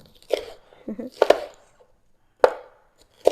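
A kitchen knife slices across food on a cutting board in a few sharp, separate chops with short pauses between them, close and fairly loud, with no talk over them.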